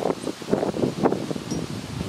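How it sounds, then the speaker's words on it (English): Wind blowing steadily outdoors, a continuous soft rushing with faint rustling, moderately near and alone without any voices. "Inviting now the wind to be the only sound for a few moments."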